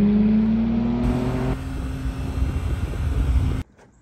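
A Mercedes sports sedan that had sat unused for over a month runs steadily with a loud, close engine drone and rising revs, then cuts off abruptly near the end, leaving near silence.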